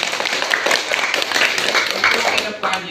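Classroom students clap for their teacher, a dense burst of applause with many overlapping claps at steady strength that tapers off near the end, with some voices mixed in.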